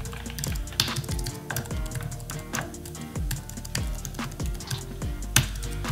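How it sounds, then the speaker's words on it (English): Fast, steady typing on a computer keyboard while entering IP addresses, a dense run of crisp key clicks and taps with occasional heavier strokes, close and alone without talk. "like if I'm typing out some IP addresses"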